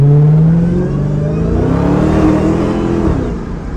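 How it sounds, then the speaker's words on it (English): A Dodge Challenger Hellcat revs hard, its supercharger whine rising and falling over a loud, close engine note that climbs and settles across a few seconds, with no voices. "And listen to the supercharger whine."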